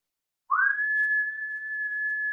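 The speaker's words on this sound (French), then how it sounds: "On inspire par le nez et l'expire par la bouche en sifflant." A long, steady whistled exhale through pursed lips during yoga breathing, rising briefly in pitch and then holding one clear tone for nearly two seconds, close to the microphone and without speech.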